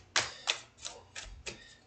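Tarot cards are shuffled in quick bursts, five crisp riffling clicks spaced evenly and heard close and alone, with no talking.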